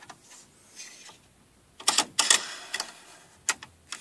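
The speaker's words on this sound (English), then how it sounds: "Attaching the left side of frame holder arm to the position 1." Frame holder arm being fitted onto the left side of a Brother PR600 embroidery machine, giving a few sharp plastic-and-metal clicks and clunks in a quick cluster, close and moderately loud, with quieter handling noise before and after.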